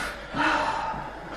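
A single deep, audible recovery breath drawn in after a freediving breath hold, close and fairly loud, with no speech.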